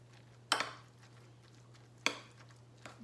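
Guacamole ingredients are stirred together with salt in a bowl, producing two sharp scraping knocks about a second and a half apart, followed by a fainter third, with quiet pauses between them.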